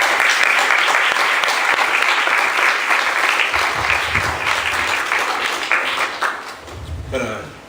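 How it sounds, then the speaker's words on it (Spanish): An audience at a seminar applauds after the presentations, a dense burst of clapping that thins out gradually, with a voice breaking in near the end. "deberíamos darle otro aplauso a los dos"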